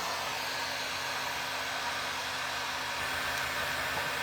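A hair dryer blows steadily on a DIY witch hat, a loud, close, unbroken whooshing hum with a faint motor whine, no voices.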